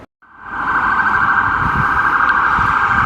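An ambulance or police siren in a Cheltenham town street rises out of silence into a loud, steady high wail that holds unbroken to the end.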